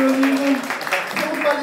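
A crowd at a 2024 campaign office opening ceremony claps in a steady, noisy wash, with a voice speaking over it throughout.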